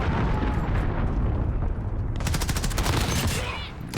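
An enemy cruise missile strike in Call of Duty: Modern Warfare hits as a heavy, continuous roaring blast, then breaks into a rapid crackling rattle of smaller bursts before slowly fading.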